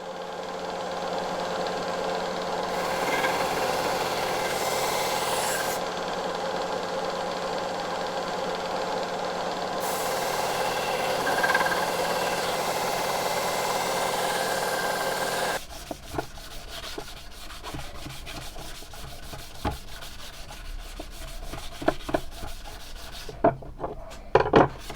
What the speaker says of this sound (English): Probably going to go all over on the grinder, and then I'm just going to have to sand it.